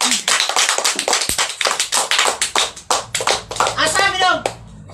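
Church audience clapping in praise, loud dense rhythmic claps repeating rapidly and close, with a voice speaking over the end.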